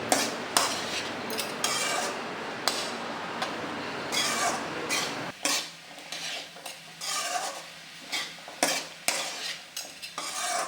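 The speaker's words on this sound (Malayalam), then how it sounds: "വേവിച്ച് വേവിച്ച് വെച്ചിരിക്കുന്ന ഗ്രീൻ പീസും കൂടെ ചേർത്ത് കൊടുത്ത് നന്നായി ഇളക്കണം" Cooked green peas being stirred into vegetable fried rice in a pan, with repeated scraping and clattering strokes of a spoon against the metal and a light sizzle underneath, close and fairly loud, no talking.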